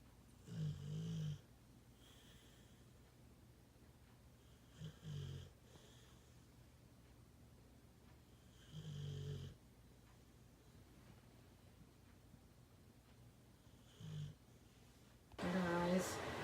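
A sleeping pit bull snores in slow, deep bursts spaced several seconds apart, each breath a low rumbling snort, with quiet stretches between and a sharper, louder snort near the end.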